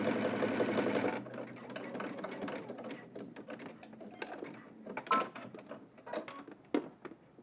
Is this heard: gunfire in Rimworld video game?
no